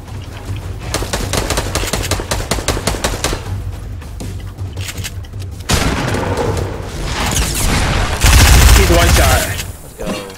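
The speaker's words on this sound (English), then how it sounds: "Is he shooting us down?" Rapid automatic gunfire from the Fortnite video game rattles in long loud bursts, followed by heavier booming shots and explosions, with players talking over the action.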